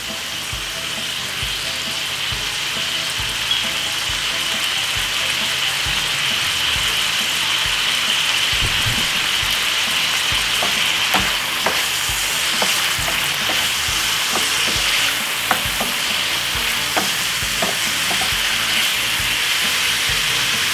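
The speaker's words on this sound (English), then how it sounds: "So let's fry up this one up about a nice good 4 to 5 minutes until the veg cook." Vegetables for a tuna pasta fry in a pan, a steady loud sizzle running throughout with scattered crackles and pops growing denser toward the end, no voices.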